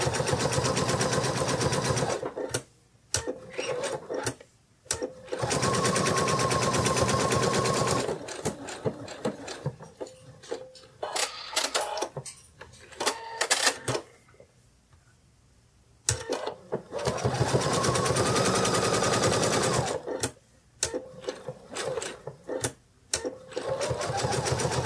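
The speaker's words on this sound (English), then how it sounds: "So you're just going to sew around the top of the ears and leave the bottoms open." A sewing machine stitches around the tops of plush kitty ears in bursts of steady, rapid running, with short pauses between passes.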